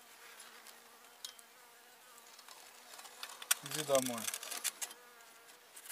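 A honey bee buzzes close by in a winter apiary, a brief rising-and-falling drone swelling past the listener, while a faint voice speaks softly underneath.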